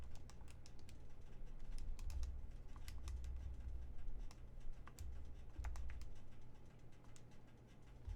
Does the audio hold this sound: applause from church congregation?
no